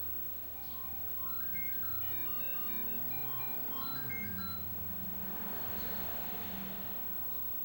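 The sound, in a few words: computer sound test tones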